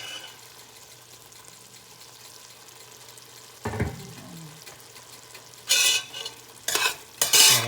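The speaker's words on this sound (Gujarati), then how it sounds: "સરસ હલાવીશું અને ચેક કરીશું દાળ ચડી છે કે નહીં" Spinach and moong dal are stirred in a pot after a quiet simmer, with a sharp clatter followed by several loud, bursty scraping stirs close by.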